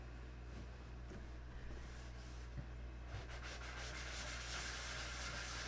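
Soft, steady hand sanding of a finished surface with fine paper, faint close rubbing strokes that grow slightly denser toward the end, with no voices.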